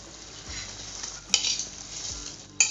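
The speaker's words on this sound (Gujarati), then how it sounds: "તો આપણે એની અંદર ખીચડીને ઉમેરી દઈશું" Rice and lentils for a masala khichdi tip into a pot of boiling water, with soft thuds, a bubbling hiss and sharp clinks of a utensil against the pot at close range.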